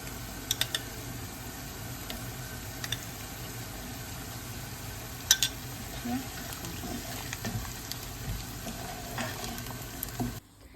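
Beans for Georgian lobio are stirred and mashed in a pan with fried onion, dry adjika and tomato paste. A steady soft sizzle sits under scraping strokes and occasional sharp utensil taps against the pan.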